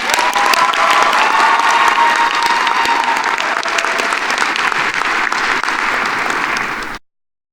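Loud, sustained applause from an audience at a 2019 early college high school graduation, dense clapping that holds steady for about seven seconds before cutting off.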